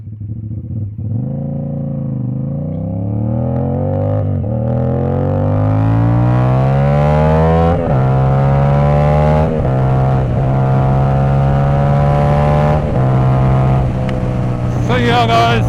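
A Suzuki 450ss motorcycle revs hard and repeatedly, its loud, close engine note climbing through rising sweeps with sharp pops and crackles between throttle blips, ending in a burst of rasping noise.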